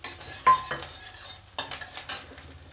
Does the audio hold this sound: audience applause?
no